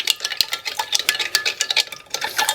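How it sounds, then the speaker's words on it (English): Rapid metallic whisking in a bowl while starting pizza dough, a busy clatter of wire against the sides in quick uneven strokes, close and fairly loud with no talking. "I'd be able to do high speed whisking"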